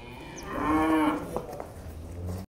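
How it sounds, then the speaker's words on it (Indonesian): Giant cattle at a farm give a single long, loud moo close by, rising and then trailing off, with faint background noise and no talking. "Guys, kita masih di Setia Farm, pusatnya sapi-sapi raksasa"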